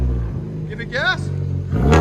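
A 2011 Kia Optima SX T-GDI with straight-pipe exhaust idles with a loud, low rumble, then revs sharply and settles back. People talk close by before a heavier surge at the end.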